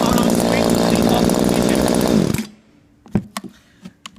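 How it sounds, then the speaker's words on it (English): A chainsaw runs loud and steady, then cuts out abruptly as its on-off switch is turned off, leaving near silence with a few sharp clicks and handling knocks afterward. "Stop the chainsaw, turn the on-off switch to the off"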